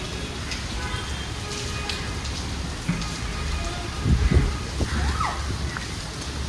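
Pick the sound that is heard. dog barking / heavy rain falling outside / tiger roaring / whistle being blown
heavy rain falling outside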